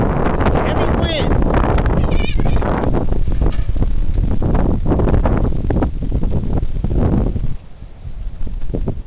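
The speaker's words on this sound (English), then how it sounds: "Here it is. The heavy wind." Heavy wind buffeting the microphone outdoors, a loud continuous roaring rush with gusty surges that eases slightly near the end, with speech heard under it.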